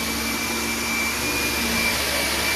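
A vacuum cleaner runs steadily on carpet in a hallway during a pet-urine carpet-cleaning job, a loud, even motor drone with a constant whine that holds for the whole stretch with no voices.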